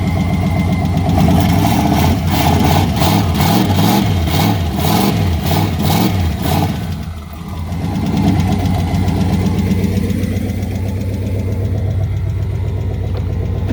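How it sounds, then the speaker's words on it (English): A Nissan Altima engine runs close by with a rocker or lifter fault, giving a loud idle with a rhythmic pulsing tick that fades after a brief dip and continues as a steady drone. "must be a rocker or lifter over on this side, because it sounds like it's coming from this side"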